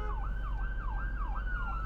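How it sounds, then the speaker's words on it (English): An ambulance siren wails in a steady rising-and-falling cycle, loud and close in traffic over a constant low road rumble, with no voices. "That guy totally blocked out that ambulance."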